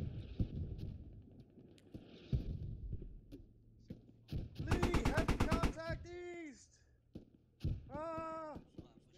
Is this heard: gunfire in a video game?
yes